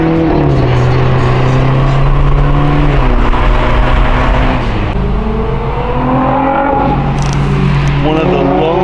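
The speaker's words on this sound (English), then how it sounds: "My brother is pulling out the A4 right now. We're gonna go do some rips and the Audi" An Audi A4 engine revs and accelerates up close, its pitch rising and falling through several loud pulls, with voices talking over the engine.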